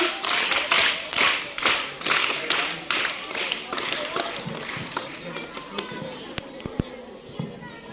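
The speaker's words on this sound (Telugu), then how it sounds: "ఒకసారి క్లాప్స్ ఇవ్వండి." Schoolchildren at a school event clap together in a burst of dense, rhythmic applause that starts loud and gradually thins into scattered, sharper individual claps by the end.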